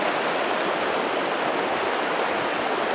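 Sheep Creek, running deep, rushes steadily with a dense, even hiss of flowing water that never lets up, close and fairly loud with no other sounds.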